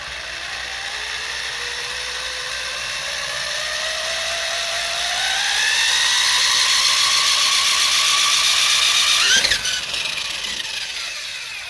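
A Missouri Wind and Solar Freedom wind turbine in its original coil setup spins up, a whirring mechanical whine that climbs steadily in pitch and loudness before a sudden clunk near the end.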